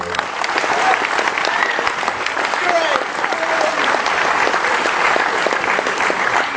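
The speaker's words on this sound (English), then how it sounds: "please, a round of applause for Song Studios." Audience applause at the DreamHack 2010 gaming event: a large crowd claps in a dense, continuous patter that stays loud for several seconds, with some voices mixed in.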